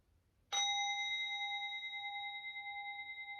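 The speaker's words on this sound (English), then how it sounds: "I'm going to ring this bell, and that's our signal to body and mind to begin to come back." A meditation bell is struck once and rings out as a clear, pure tone that hangs and slowly fades in an otherwise quiet room.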